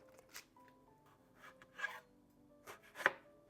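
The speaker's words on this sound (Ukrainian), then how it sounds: "Я нарізаю скибочками ось такої товщини приблизно" Quiet knife cuts through nectarines, a few separate slicing strokes with faint scraping on a board, close by and without talk.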